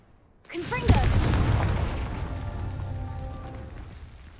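Confringo spell explosion in Hogwarts Legacy, a single sharp boom with a crackling burst that rumbles and slowly decays over a few seconds, close and loud.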